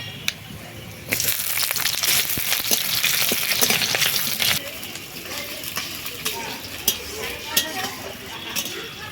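Chopped onions fry in hot oil with panch phoron in a wok over a village cooking fire, giving a loud, steady sizzle with scraping stir strokes and a few sharp clinks.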